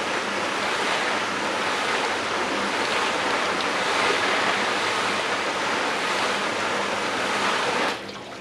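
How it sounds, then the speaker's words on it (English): Water poured onto a greenhouse roof rushes steadily down into a rain catchment, a loud continuous splashing wash heard up close that cuts off abruptly near the end. "I'm going to put water up on the roof."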